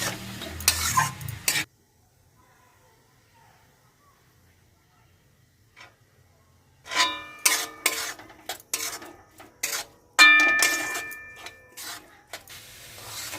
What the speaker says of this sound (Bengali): এই মিনিট 4-5 মতো একটু নাড়াচাড়া করে নিয়ে গরম করে নিয়ে নামিয়ে নেব।